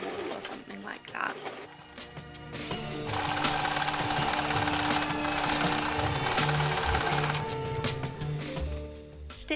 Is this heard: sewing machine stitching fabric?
yes